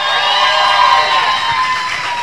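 An audience cheers and claps for a band, a loud, steady roar of applause with shouts and whistles layered on top.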